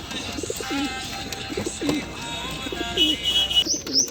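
Pigeons coo repeatedly at an outdoor pet market, soft throaty calls overlapping with steady crowd murmur and occasional brief chirps.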